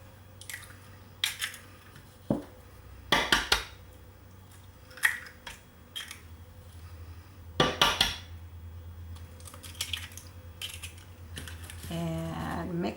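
Eggs being mixed into a cream cheese, melted chocolate, sugar and vanilla batter in a bowl, with repeated clinks and scraping taps of a utensil against the bowl, moderately close, no talking.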